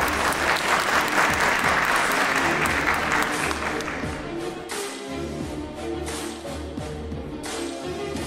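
An audience at an award ceremony for a 100th-anniversary anthem poetry competition breaks into loud, sustained applause that gradually settles to a lighter, steadier patter of clapping.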